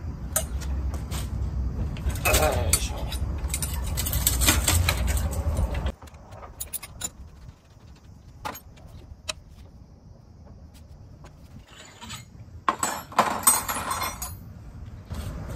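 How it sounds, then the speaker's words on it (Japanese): Front tire being removed from a Honda Grom minibike on a front stand: a run of metallic clinks and clattering parts, then a quieter stretch, then a final burst of tool and part handling. "フロントのスタンドをね、えかけてタイヤを取っていきましょう"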